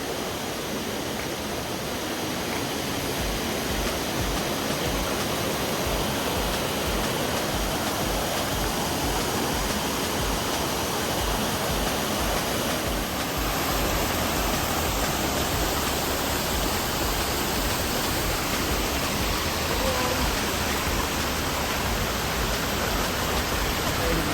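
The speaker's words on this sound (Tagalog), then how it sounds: "So napakaraming waterfalls dito." Waterfalls on Mount Igcoron roar as a loud, continuous, dense rush of falling water that fills the whole stretch without pause.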